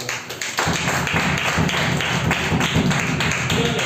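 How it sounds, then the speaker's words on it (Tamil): A church congregation claps hands together at a prayer service, a loud, sustained burst of overlapping claps filling the room for several seconds. "கரங்களை தட்டுங்க பார்க்கலாம்."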